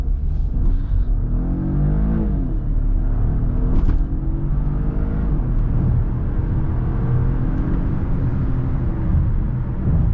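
A Volvo XC40 R-Design T5 plug-in hybrid with 262 horsepower accelerates at full throttle from a green light, a loud steady engine roar rising in pitch from inside the cabin.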